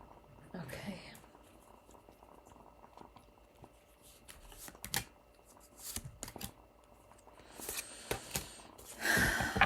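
Tarot cards being shuffled and drawn by hand, soft papery riffles and brief slaps in short bursts, quiet and close, with faint breathy voice sounds between them.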